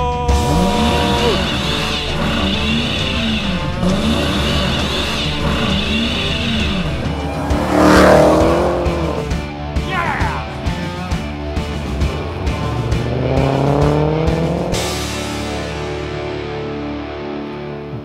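A 2019 Dodge Challenger SRT Hellcat Redeye roars loudly, its engine revving hard with bursts of tire squeal midway, heavily layered with distorted, effects-laden sound throughout.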